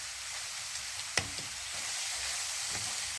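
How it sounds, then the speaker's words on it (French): Chopped vegetables frying in a pan for a stuffed layered crêpe filling, a steady close sizzle throughout with a couple of sharp utensil knocks against the pan. "Je vais faire revenir tout ça et je vais le laisser cuire pendant 10 minutes, pas plus."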